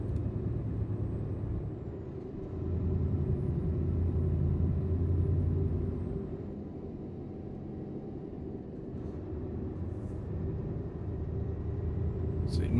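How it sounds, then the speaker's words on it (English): Truck rumbling steadily along a road in Euro Truck Simulator 2, a continuous low engine and tyre drone that swells and eases slightly, with faint high tones above. "See if the truck grips to the road now that it's supposedly dry."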